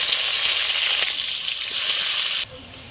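Chopped onion hitting hot oil already holding dried red chillies, whole cumin, cardamom and cinnamon, giving a loud steady sizzle and hiss that cuts off abruptly near the end, leaving quieter frying.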